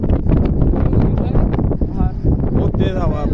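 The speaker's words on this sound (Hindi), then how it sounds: "भाई हवा बहुत तेज़ है, बहुत ज़्यादा तेज़ है।" Strong early-morning wind buffets the microphone outdoors, a steady loud roaring rush, while someone talks over it.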